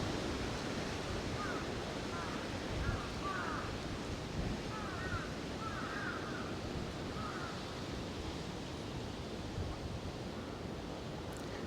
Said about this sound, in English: It's quite windy today, and I really hope you won't hear that too much.